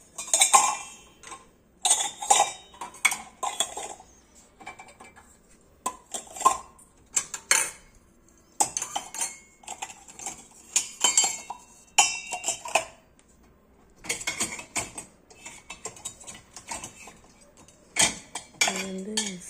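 Steel plates and tumblers handled in a kitchen, clattering and clinking in repeated bursts of metallic knocks and rattles, close and fairly loud with brief pauses between handlings.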